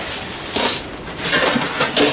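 Stamped steel fry pans handled at a winter hot tent camp, producing a few soft metallic clanks and scrapes in short bursts, close by, with no talking.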